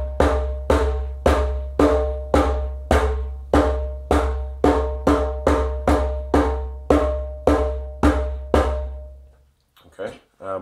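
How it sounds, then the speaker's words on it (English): Bass strokes struck at the centre of a djembe with a curved hand: around fifteen steady, deep, booming hits, close and loud, then a brief bit of speech at the end. "Second hit is more of a bass hit, so you'll hear more bass in this next hit here."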